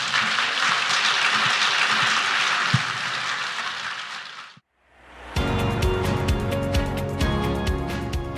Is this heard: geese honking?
no